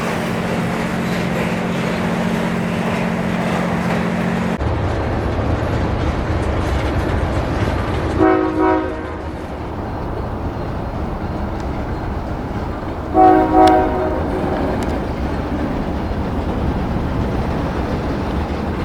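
A northbound grain train pulls out of a rail yard in Memphis, Tennessee, with a loud, continuous rumble and wheel noise, a brief tone early on, and two short horn-like blasts partway through.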